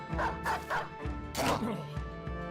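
A dog in the medieval combat game Battle Brothers gives several short, loud barks and yips in quick bursts, mixed with battle noise and someone talking excitedly over them.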